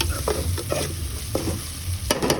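A spoon scrapes and stirs chicken curry in a hot pan, short scraping strokes over a steady low sizzle, close and moderately loud.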